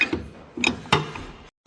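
A ratchet loosens the tension on the front feeder house drum of a combine, a few short metallic clicks and clunks in uneven bursts, close and loud, ending in a brief silence.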